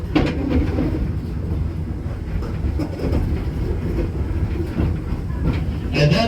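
Heritage train at Greenfield Village rolling along the rails with a steady low rumble and faint rhythmic clatter, continuous and fairly close, with a voice faintly audible underneath.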